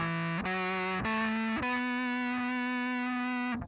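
A buzzy, distorted square-wave guitar tone from an Electro-Harmonix Micro Synthesizer pedal, hollow in character, stepping up through three sustained notes before cutting off.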